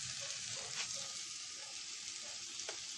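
A waffle cooks in a frying pan with a steady, close sizzle and faint crackle that continues evenly throughout, with no talking.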